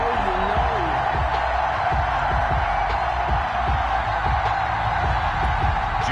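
A stadium crowd in an EA Sports NFL video game between the Denver Broncos and Miami Dolphins roars steadily, a dense wash of cheering and whoops with scattered thumps, while a commentator talks over it.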